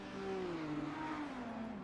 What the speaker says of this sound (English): just slapping the rev limiter there,